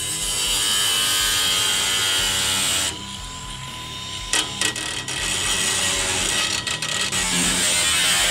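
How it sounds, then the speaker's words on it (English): A cutoff wheel slices through metal for a custom tank, giving a loud, continuous grinding whine up close that dips briefly partway through, broken by a few sharp ticks, then resumes steadily. "We're gonna take a couple minutes here with the cutoff wheel."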